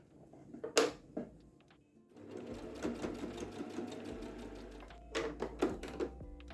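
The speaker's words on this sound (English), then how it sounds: "So I'm just going to sew along this bit and stop here." A sewing machine stitches along the edge of a tote bag, running in one steady burst of several seconds, with a few sharp clicks and handling knocks before and after.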